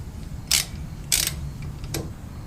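Brake caliper slider bolts being tightened on the rear brakes of a second-generation Dodge Ram 2500 24-valve Cummins, heard as three short ratcheting bursts, close and moderately loud, over a steady background hiss.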